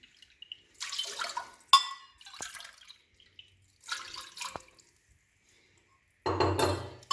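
Two cups of water poured into a cooking pot while making kachnar qeema, with intermittent splashing and clinks in the pot, then a louder gush near the end.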